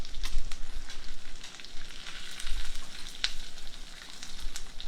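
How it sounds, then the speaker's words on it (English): Deep-frying breaded lasagna crackles with a steady, dense sizzle of oil, fairly close, with sharper pops scattered through the bubbling and no voices. "You hear that sizzle?"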